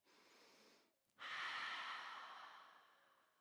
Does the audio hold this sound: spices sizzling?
no